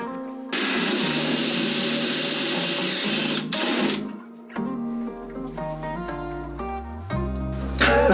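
A power drill bores into a boat hull over foam supports, a loud steady whine that cuts out, then restarts in shorter, uneven bursts with shifting pitch as the bit works through the material, close to the microphone.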